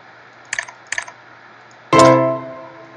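Two quick mouse clicks on a virtual keyboard in Progressbar95, followed by a bright ringing chime that fades over about a second; the sounds are close and clear over a faint background hum.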